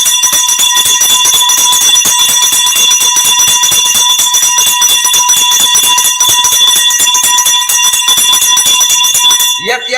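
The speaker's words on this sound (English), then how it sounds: "Ringing the bell for the big man." A bell rings continuously and loudly at a live-streamed event, its steady metallic tones sustained for the whole stretch and stopping abruptly at the end.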